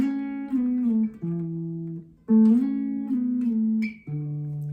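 An electric guitar plays a short riff of sustained notes bending and sliding between pitches, clean and up close, with brief pauses between phrases.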